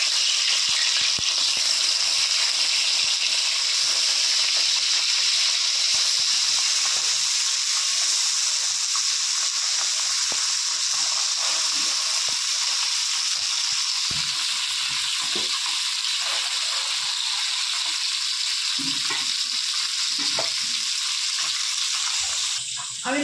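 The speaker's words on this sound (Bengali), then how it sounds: "বাদ বাকি মাছগুলো ওই তেলেই ভেজে নেব।" Bata fish frying in hot oil, a continuous close, loud sizzle and crackle that holds steady throughout with faint stirring noises underneath.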